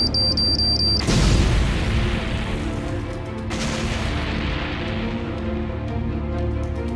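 A car bomb detonates as a vehicle's ignition is started, giving a sudden loud, deep boom about a second in, followed by a long rumbling roar, with a second swell a few seconds later.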